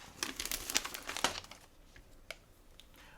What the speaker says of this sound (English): So now we're going to be able to peel up the transfer tape.